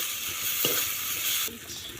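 Garam masala sautéing and being stirred in a pan for a fish fry: steady bright sizzling with a scrape of the spoon partway through, close and continuous, dropping slightly in the final half second.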